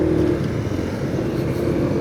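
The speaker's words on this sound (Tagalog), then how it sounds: "Sasagupain na naman natin ang Commonwealth Avenue na matindi ang traffic at ang Caloocan." Dense road traffic on Commonwealth Avenue, Quezon City: a steady, loud blend of car engines idling and revving close by, continuous with no pauses and no voices.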